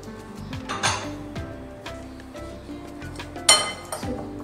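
Corn kabab masala mixed in a bowl: scattered clinks and taps of a spoon against the dish, with a couple of sharper knocks, close and moderately quiet.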